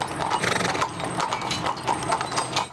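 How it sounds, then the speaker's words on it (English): Carriage-ride horses clip-clop at a walk in a steady, rhythmic run of hoof strikes on a hard surface, fairly close and clear, with a faint whinny-like tone mixed in. "Even the horses, Jack and Jill, are family"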